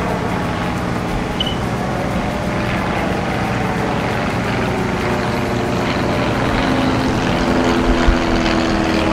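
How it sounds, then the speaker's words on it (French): Small propeller airplanes pass overhead near a lake walk at Villages Nature, a steady distant engine drone that holds throughout, loud and continuous with no clear break. "Et il y a beaucoup de petits avions qui passent."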